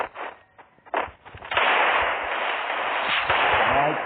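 Gunfire from a shooter video game: a couple of sharp early bursts, then a loud, sustained stretch of dense shots and noisy action carrying on to the end, with no talking.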